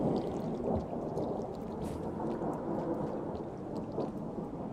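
Ambient thunder rumbles in the video game Rain World, a deep continuous roll layered with steady rain-like noise, loud and sustained throughout with no voices.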